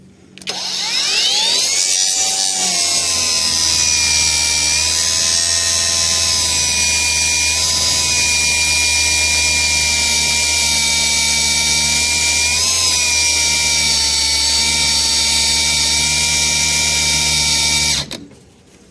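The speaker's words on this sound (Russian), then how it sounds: "Просто не удержать эту болгарку." An angle grinder cutting into a TPCELL 4A battery pack built from DMEGC 18650 cells: the motor spins up, then a loud, sustained, high whine that wavers slightly under load before cutting off abruptly.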